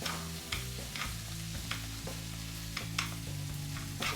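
About 150 grams of meat browns and sizzles in a frying pan as a utensil stirs it, giving steady close frying hiss broken by regular scraping clicks roughly every half second.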